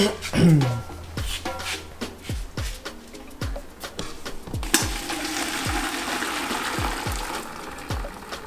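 Brown soaking water from roasted, soaked corn for Ghanaian Asana drink is drained off, a rushing pour and splash close by, with repeated scraping knocks before the stream swells into a steady gush.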